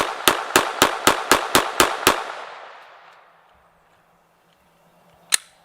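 Eight rapid 115-grain pistol shots strike a backpack armor plate in a quick, evenly spaced burst, each a sharp loud crack with decaying echo, followed by a pause and one more isolated impact near the end.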